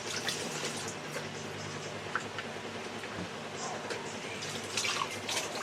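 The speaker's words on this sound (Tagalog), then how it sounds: "Grabe ang hina pa rin ng tubig." A weak trickle of tap water running while dishes are washed, with faint drips and splashes of water against dishes under a low, continuous flow.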